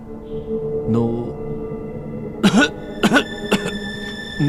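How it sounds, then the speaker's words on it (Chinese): In a Chinese period drama, a servant who has caught a chill coughs in several rough, separate bursts against a sustained musical background. "奴才这几天偶感风寒，一直咳嗽不停"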